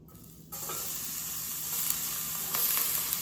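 Onions for seafood paella sizzle and crackle steadily in a hot pan, starting abruptly after a brief quiet moment and continuing as a loud, even hiss.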